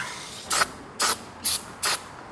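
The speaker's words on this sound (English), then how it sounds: "We are gonna finish up with a little brake cleaner" Brake cleaner sprayed in four short, sharp hissing bursts at a steady rhythm, close and loud, on a Ferrari car being worked on by a mechanic, with no talking.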